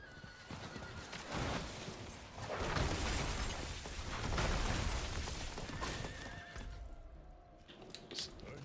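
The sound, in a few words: horse neighing and galloping in a video game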